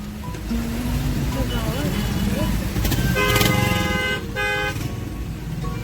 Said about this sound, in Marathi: हे बघा एवढी ट्रॅफिक झाले